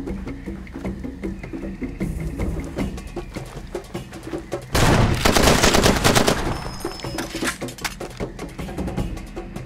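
Bursts of automatic gunfire from the Far Cry 2 video game, dense rattling volleys that swell into a loud sustained barrage midway, then continue as scattered shots with no talking.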